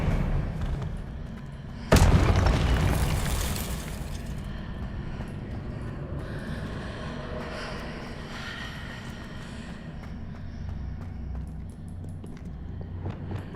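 An Expelliarmus spell cast in the Hogwarts Legacy video game lands as a sudden loud magical blast, followed by a crackling, rumbling tail that fades slowly under a steady game ambience.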